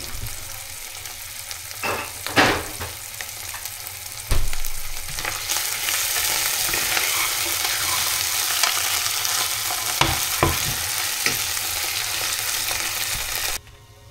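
Garlic paste sizzles and fries in a pan while being stirred for a goat meat curry, a loud continuous crackle with occasional sharp scrapes and clatters of the spoon, stopping abruptly at the end.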